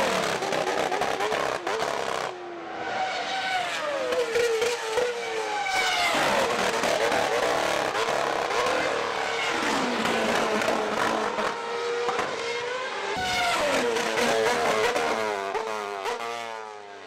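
Formula 1 race cars at the 2011 Silverstone Grand Prix scream past at high revs, with loud rising and falling engine notes, gear changes and Doppler sweeps as several cars pass in succession, continuous throughout.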